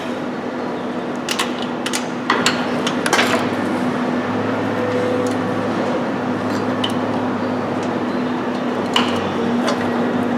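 A wrench torques down the starter bolts on an H3 Hummer: scattered sharp metallic clicks and ratcheting ticks come in short clusters over a steady low hum, close by in a quiet work space.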